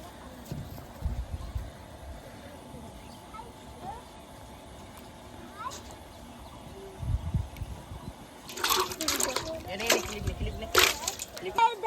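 Water poured into a container holding freshly caught fish, with faint sloshing and trickling early on, then a louder burst of splashing near the end, heard up close outdoors.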